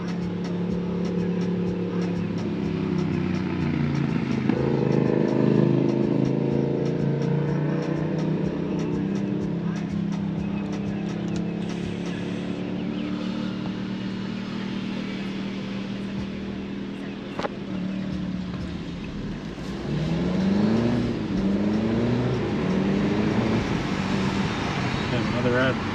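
An Alfa Romeo with Brembo brakes cruises through Miami streets, a steady engine hum and road rumble from inside the cabin with a rising rev near the end, while someone talks over it throughout.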